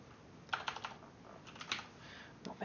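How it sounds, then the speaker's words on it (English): Typing on a computer keyboard while working in Unreal Engine 4, a few quick clusters of light, close key clicks separated by brief pauses, faint against a quiet room. "Not being very good at typing today"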